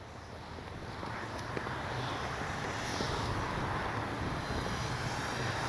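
An Avios Bush Mule RC airplane flies in windy conditions, its engine a distant, steady drone blended with broadband wind rush that swells slightly and stays continuous throughout.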